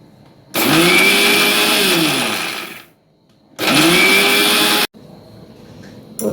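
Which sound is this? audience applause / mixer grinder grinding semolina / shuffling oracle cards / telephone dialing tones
mixer grinder grinding semolina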